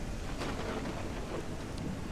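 Rain falling in the train video game Railroads Online, a steady dense hiss of rain and wind with a low rumble underneath, quiet and continuous.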